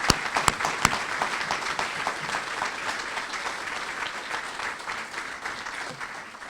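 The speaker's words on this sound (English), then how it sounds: "I ask that you join me in a round of applause." Audience applause at a county sheriff's swearing-in ceremony, a crowd clapping steadily throughout with a few sharp individual claps early on, gradually easing in intensity.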